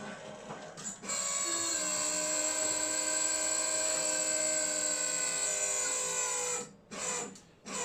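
A Vesuvius EVO Leva single-group, dual-boiler spring lever espresso machine pulls a shot: after a brief clunk, a steady buzzing pump-like drone holds for several seconds, then cuts off, followed by a few short mechanical sounds.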